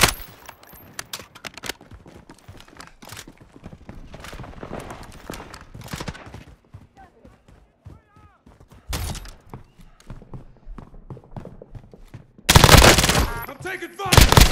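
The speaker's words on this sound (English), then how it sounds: "I'm taking fire!" Bursts of rapid video game gunfire, some close and loud, with a heavy sustained volley near the end, scattered between quieter stretches of shuffling movement and brief voices.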